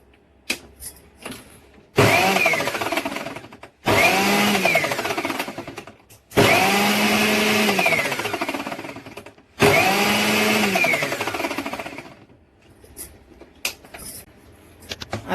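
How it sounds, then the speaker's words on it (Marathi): A kitchen mixer grinder coarsely grinds makhana (fox nuts) in four separate whirring bursts of two to three seconds each, loud and close, with short quiet pauses between them. "आता आपण थांबून थांबून मिक्सर लावणार आहोत, म्हणजे मखान्याची एकसारखी भरड निघेल"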